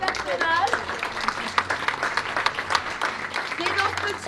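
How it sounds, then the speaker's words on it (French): An audience at a creators' event claps for a scriptwriter, a crowd applause blended with voices talking over it, fairly even in level throughout. "Donne un applaudissement au scénariste, au personnage."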